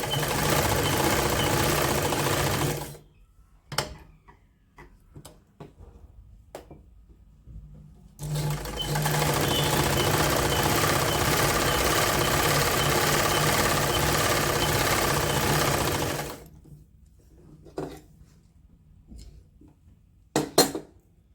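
Sewing machine stitching hand-knitted woollen socks, two long continuous whirring runs of steady motor hum close by, separated by quiet gaps with small clicks and handling noises.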